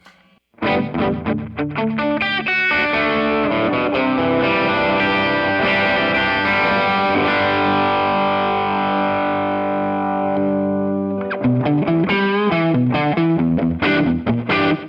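An electric guitar plays through a Rocknroll Amps Duoplex 2EL84 amp with a Genesis drive distortion pedal and light delay, sustained loud chords ringing out, then a brief pause before choppier strummed phrases resume.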